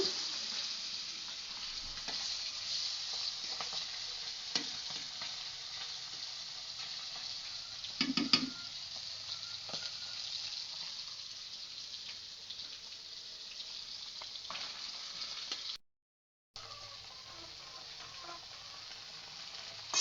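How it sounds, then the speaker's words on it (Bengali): Tengra fish slowly frying in hot oil for a radish curry, a soft continuous sizzle with a brief louder spatter midway and a short dropout near the end, no voices. "মাছটা আমার তেলে ভাজা হচ্ছে আস্তে আস্তে করে"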